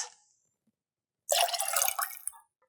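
100% carrot juice poured into a jigger for a carrot martini, a short liquid splash lasting about a second after a near-silent pause, close and fairly soft.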